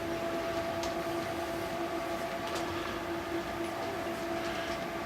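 Model trains run on a home model railroad layout modeling a Reading line, a continuous soft rolling rumble with steady faint tonal whine, no voices.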